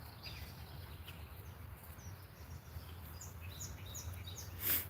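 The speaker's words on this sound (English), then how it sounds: "You hear the birds?" Birds call faintly along a forest trail in Johnson, Vermont: scattered high chirps and short whistled notes repeat over a steady low outdoor hum, with a brief louder rustle near the end and no talking.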